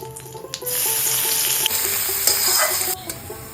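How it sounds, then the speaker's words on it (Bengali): Sliced onions frying in hot oil with whole black peppercorns and whole garam masala, making a loud, close, continuous sizzle broken by a few sharp stirring scrapes. "পেঁয়াজটা ভালো করে ভাজা হয়ে গেছে"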